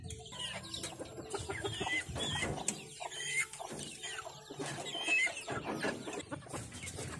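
Chickens clucking at home in the Philippines, a flock of hens and a rooster giving repeated close clucks and squawks with scattered household noises in between.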